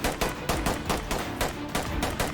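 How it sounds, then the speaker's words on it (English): Rapid exchange of gunfire in a tactical SWAT shooter game, loud close bursts of automatic shots firing back and forth through a doorway with barely a pause. "A gunfight breaks out, with a suspect opening fire through the door ahead, narrowly missing me and my team. We respond with returning fire."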